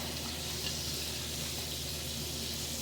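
Pork chops sizzle steadily in a hot pan, a continuous crackling hiss with faint low hum underneath, no talking.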